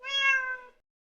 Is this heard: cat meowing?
yes